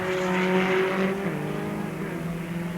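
A Formula Ford 2000 race car at Kirkistown in 1983 on the back straight, its engine note droning steadily at a distance and fading slightly as it holds speed, with no talk over it.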